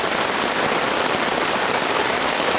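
Heavy rain pours steadily onto a forest campsite under the trees in Uwharrie, a dense, even wash of noise with no break and no voices.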